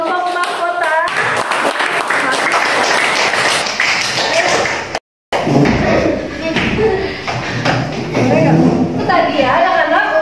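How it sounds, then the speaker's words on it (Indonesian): Classroom applause for a student group after their project presentation, a mix of irregular claps, taps and thumps with children's voices throughout, briefly cut out midway. "kita beri tepuk tangan buat kelompok mahkota."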